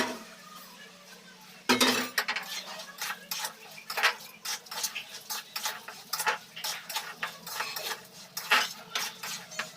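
Gobindobhog rice poured into a pot to be fried, giving a sudden rush of dry grains followed by scattered light clinks and scrapes of a utensil against metal, close and fairly quiet.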